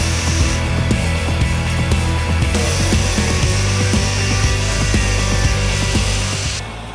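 A bolt for a sissy bar on a Harley-Davidson Low Rider ST motorcycle is cut to length, a loud continuous rasping cut that runs steadily throughout and eases off at the very end.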